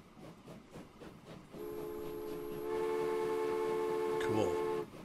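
A steam-era train in the Transport Fever 2 video game, on a Nevada silver ore route in the 1800s, rumbles faintly and then sounds a sustained whistle that swells louder and holds for several seconds before cutting off.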